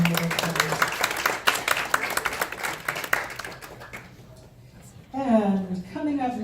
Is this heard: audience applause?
yes